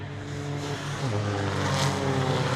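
Race car engine at the Focus Cup race at Castle Combe, a loud steady drone that drops in pitch around one second, then builds again as the car pulls away, with no voices over it.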